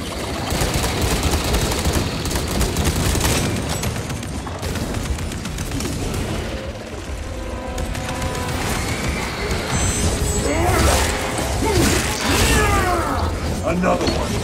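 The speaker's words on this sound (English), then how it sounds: "There they are. The orbital guns." Orbital guns in Warhammer 40,000: Space Marine 2 pound in a dense, loud barrage of blasts and crashes layered with battle noise and mechanical clatter, continuous throughout.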